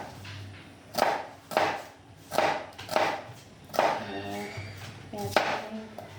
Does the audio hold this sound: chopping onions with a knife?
yes